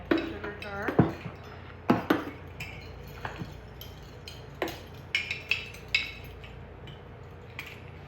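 Metal spoon clinks and scrapes against a sugar jar while measuring two tablespoons of sugar for white bread dough, a handful of sharp, close taps and chinks spread through the clip, with a faint voice at the start.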